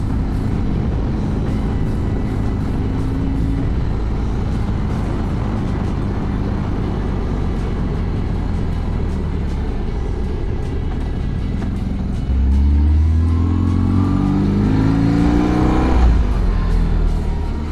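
Motorcycle with its stock exhaust riding along, a steady wind-buffeted engine drone that swells with rising revs toward the end, no talk over it.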